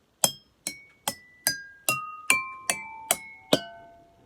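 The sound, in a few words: water glasses struck with a chopstick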